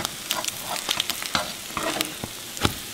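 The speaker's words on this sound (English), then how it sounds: "You want to use a non-stick skillet if you can, so that you don't have to worry about these sticking." French toast fries in butter in a non-stick skillet, a steady close sizzle with crackling pops and bursts of spattering across the whole stretch, no voices.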